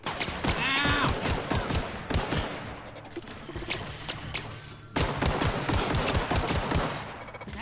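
Gunfire in the sci-fi role-playing game The Outer Worlds during a close fight: dense, loud volleys of rapid shots overlapping almost without a break, with short pauses between the heavy bursts.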